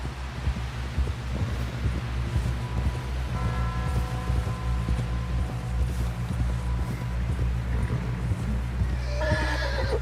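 A horse whinnies and snorts over a steady low rumble, with hooves clopping irregularly in the background, in the video game Red Dead Redemption 2.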